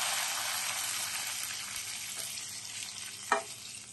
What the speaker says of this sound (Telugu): తాలింపు అంతా అయిపోయింది కదా, పప్పులు వేసేసుకోండి